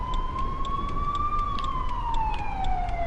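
An ambulance siren wails from road traffic, its tone rising slowly and then falling in a single long sweep over a steady background rumble of road noise.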